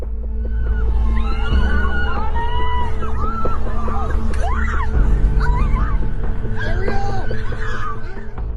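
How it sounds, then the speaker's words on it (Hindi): Terrified people scream over a loud, chaotic din, with wavering shrieks and cries rising and falling above constant heavy rumbling noise. "इस वीडियो फुटेज में इंसानों की चीखें भी सुनाई दे रही थी"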